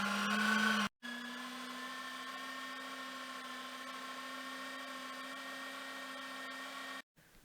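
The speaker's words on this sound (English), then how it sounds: "We will be using this grinder old-fashioned because the blender does not do a proper work." An old-fashioned grinder works horseradish with a steady, droning motor whine that holds an even pitch, cutting out briefly near the start and again near the end.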